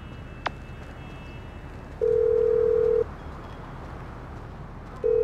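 A phone in the video game GTA V rings with steady electronic tone bursts, about a second long and a few seconds apart, over quiet background hiss.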